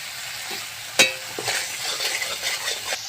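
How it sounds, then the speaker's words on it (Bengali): A spice paste with coriander powder and salt fries in a pan for papad curry. A soft steady sizzle runs under stirring scrapes, and a utensil knocks sharply against the pan once. "ভালো করে কষিয়ে নিচ্ছি পরিমাণ মতো আমি নুন দিয়ে দিলাম"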